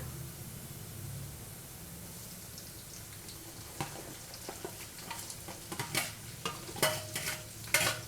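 Sliced onions sizzle gently in hot oil with salt added, a soft steady frying hiss, then a spoon scrapes and stirs the pan in a series of louder clattering strokes toward the end.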